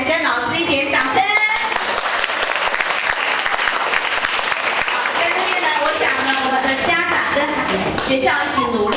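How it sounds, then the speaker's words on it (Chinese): Loud applause from an audience at a school event honouring children and teachers, dense sustained clapping with a voice speaking over parts of it. "给我们的孩子跟老师一点掌声"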